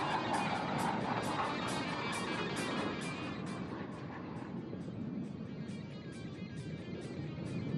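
Jets of the Suryakiran aerobatic team pass overhead at an air force day display, a distant, steady roaring whoosh that swells and slowly fades, with crowd noise and a faint voice underneath.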